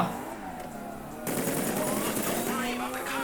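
Automatic gunfire during a bank heist in the video game GTA V Online, rapid bursts that start mid-clip and continue as a dense, close rattle with faint talk underneath.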